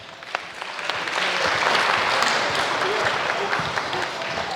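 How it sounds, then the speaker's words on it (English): An audience at a basketball shooting clinic in Belfast, Northern Ireland breaks into a sustained round of applause, dense clapping that swells and holds for several seconds. "Give them a nice round of applause."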